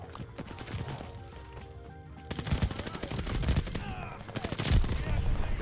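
A Type 100 submachine gun fires in a video game: rapid automatic bursts of sharp cracks start after a quieter opening and grow louder and more continuous toward the end.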